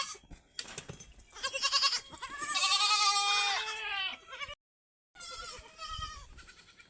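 Young goat kids bleat loudly and close by, a run of wavering, high cries that overlap and then pause briefly before a few more calls, with no talking.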